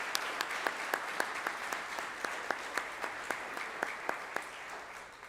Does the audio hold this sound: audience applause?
yes